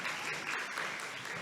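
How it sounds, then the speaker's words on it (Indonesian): Students of a school division clap together at an educational session. The applause is dense and even but fairly quiet, and it lasts a brief moment with no talking over it. "Tepuk tangan lagi."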